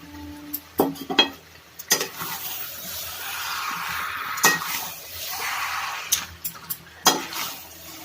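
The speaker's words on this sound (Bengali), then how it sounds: "একটু কষিয়ে নেব।" Chicken sautéing in a pan with fried cauliflower and potato: a steady sizzle and frying hiss, punctuated by sharp clinks and scrapes of a utensil stirring against the pan at irregular intervals.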